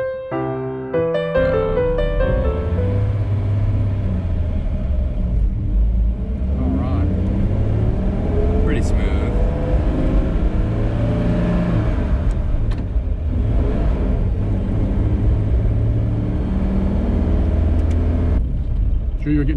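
A 1954 Ford Customline car pulls away from a stop on a hill, its engine rumbling and revving up through the clip, close by, with people talking over it.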